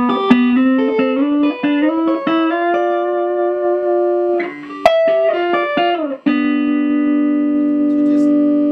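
Clean electric guitar tones through a Black Volt amplifier: single notes and chords ring out clearly with sustained decays, played close and alone, a few plucked phrases with pauses between them.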